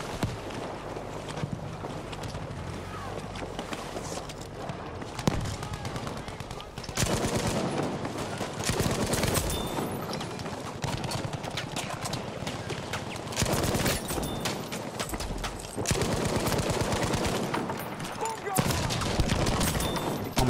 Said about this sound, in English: Oh my god, I'm getting shot from behind.